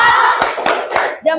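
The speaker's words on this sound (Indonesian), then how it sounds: "Tepuk salut." A school class does a rhythmic salute clap together: a few loud, sharp group claps in a quick pattern that ends with a short voiced shout from the children.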